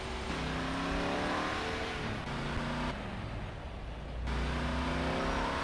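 Car engine driving in the video game Grand Theft Auto: Liberty City Stories, a steady low motor drone with harmonic revs that drop briefly mid-clip and return, loud and continuous with no talk.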